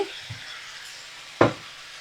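Cumin paste frying in a pan for a vegetarian chochori gives a soft, steady sizzle, broken by one short, louder scrape of stirring near the end.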